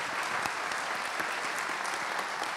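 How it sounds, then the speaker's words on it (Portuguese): An audience at a panel event gives steady, warm applause, many hands clapping at a moderate distance without pause, with no speech over it. "Eu queria pedir uma salva de palmas calorosa a todos eles."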